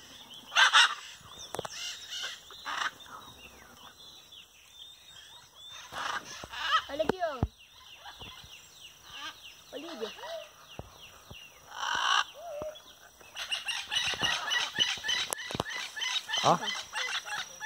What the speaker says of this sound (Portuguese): Ele é o papagaio maracanã.